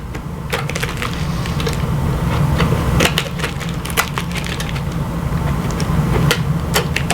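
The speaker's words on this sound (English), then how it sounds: "You want to just go around and make some snips about every inch or inch and a half." Scissors making a series of quick, sharp snips around the edge of Reflectix foil bubble insulation, with irregular crisp cuts over a steady low background hum.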